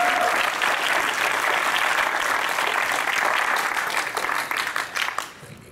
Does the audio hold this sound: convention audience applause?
yes